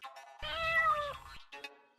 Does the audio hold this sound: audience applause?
no